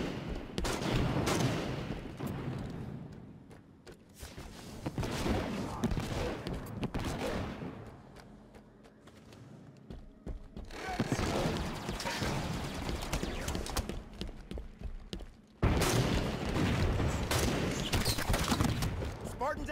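Halo 5 multiplayer combat on PC: dense bursts of gunfire and blasts come in loud waves, with a brief quieter lull before the shooting swells again and a sharp heavy burst near the end.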